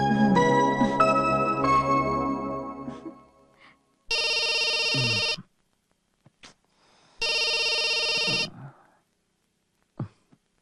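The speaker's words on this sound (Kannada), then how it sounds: "ಆನಂದಗ್ ಫೋನ್ ಮಾಡಿ ತಮಾಷೆ ಮಾಡಿದ್ರೆ ಹೇಗೆ?" A telephone ringtone sounds in two long, loud bursts separated by a pause, following a stretch of other tonal sounds, with brief faint noises between.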